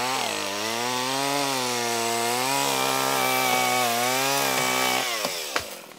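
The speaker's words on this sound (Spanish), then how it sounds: "los podadores recurren a la motosierra para avanzar en el trabajo" A chainsaw cuts through oak branches during tree pruning. A loud, close, continuous engine whine wavers in pitch under load for several seconds, then breaks off into a few clunks at the end.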